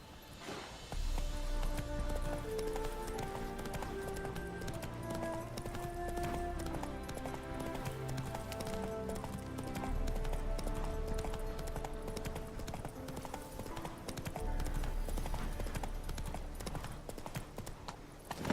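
Roach, the horse in the video game Witcher 3, gallops with a continuous rapid clip-clop of hooves under a steady, loud bed of game music for most of the stretch, with no voices.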